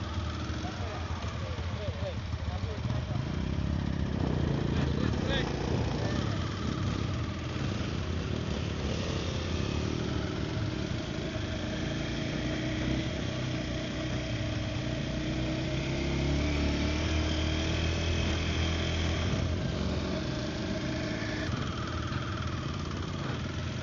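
A Kawasaki KLX 230 off-road motorcycle engine runs steadily throughout, its buzzing drone shifting a little, with a person talking over it.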